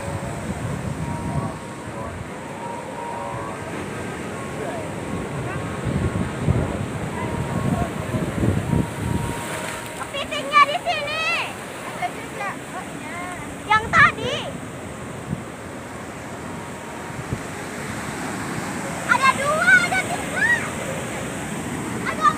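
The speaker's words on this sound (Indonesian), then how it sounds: "Itu ombaknya." Ocean waves roll and wash against the rocky shore at Tanah Lot, Bali, a steady surf and wind roar under intermittent talk from several people nearby.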